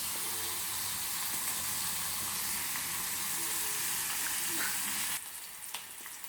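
Prawns fry in hot oil for chemmeen fry, giving a steady, dense hiss that drops off abruptly near the end to a quieter sizzle.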